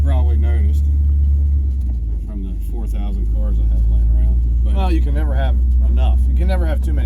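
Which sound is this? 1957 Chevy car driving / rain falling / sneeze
1957 Chevy car driving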